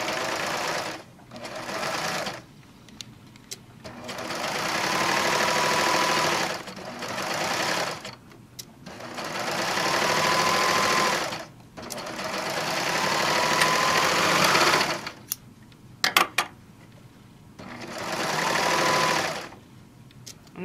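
A serger runs in several bursts of a few seconds each as it stitches the side seam of a fabric wine bottle gift bag. The fast, humming mechanical whirr is separated by short pauses with small clicks and handling noises.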